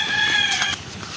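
Chicken or chick calling outdoors at a rural spot near Antipolo, with a few high, clear clucking and peeping calls rising above a steady background hum, fairly close and alone without talk.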